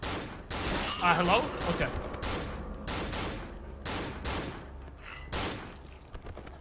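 Enemies fire guns in the horror video game Cry of Fear, several sharp bursts and single shots scattered across the stretch, loud and close, with a voice speaking briefly between them.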